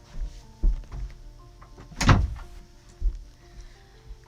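An indoor door being opened gives one clear thunk with a few softer knocks around it, fairly quiet and close, with no one speaking.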